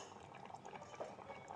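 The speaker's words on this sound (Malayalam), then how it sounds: "ചക്കക്കുരും തക്കാളിയും എല്ലാം കൂടെ വെന്ത് നന്നായി തിളച്ച് വന്നിട്ടുണ്ട്" Tomato and jackfruit seed curry simmering in a pot, a faint, steady bubbling with soft irregular pops throughout, quiet and close.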